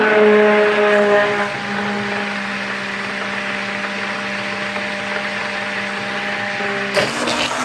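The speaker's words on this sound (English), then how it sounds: "I'm going to go ahead and put my emulsion blender in here and blend up" Emulsion stick blender whirring steadily while mixing kaolin clay into soap, a close, continuous motor hum that stops abruptly near the end.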